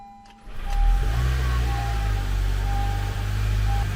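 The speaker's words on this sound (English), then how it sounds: "I'm going to go ahead and start the vehicle" A 2011 Honda CR-Z engine cranks and catches after a brief quiet moment, then settles into a steady, loud idle with a low rumbling hum that carries through to the end.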